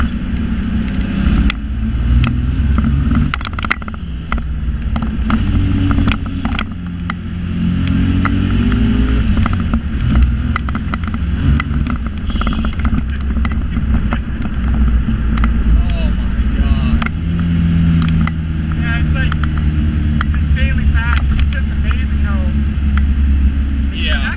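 LS V8-swapped Datsun 240Z pulling hard in second gear, a loud, steady engine drone that rises in pitch across the clip, heard from inside the car with wind noise and occasional passengers' voices over it.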